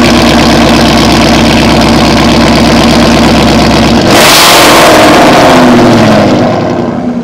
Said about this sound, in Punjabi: ਆਪਾਂ ਸਟਾਰਟ ਕਰਕੇ ਦਿਖਾਉਣਾ ਤੁਹਾਨੂੰ ਗੱਡੀ